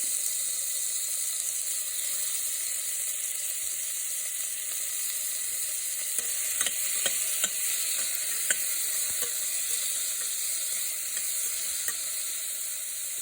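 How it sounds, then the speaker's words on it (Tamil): Onions and tomatoes fry in oil for radish sambar, a continuous close sizzle with a series of light scraping stirs from a spoon in the pan through the middle stretch. "வெங்காயத்தையும் தக்காளியவும் சேர்த்து கிளறி விடணும்."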